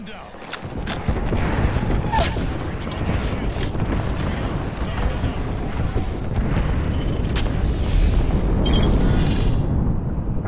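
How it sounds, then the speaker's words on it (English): Heavy airstrike explosions in a military video game, a dense continuous barrage of booms and rumbling blasts after a quiet first second, loud and sustained with sharp cracks near the end. "Signaling an airstrike."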